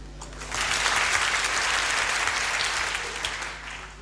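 Studio audience at a German radio show applauds on cue, a steady wash of many hands clapping that swells in, holds evenly for several seconds and tapers slightly, with no voices over it.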